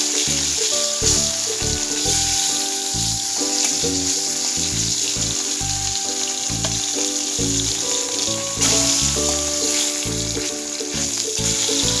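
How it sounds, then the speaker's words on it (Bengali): Bata fish frying in hot oil in a wok (kadai) gives a loud, continuous, close sizzle with crackling spits that never lets up. "কড়াই গরম হয়ে গেছে, মাছ ভাজবো,"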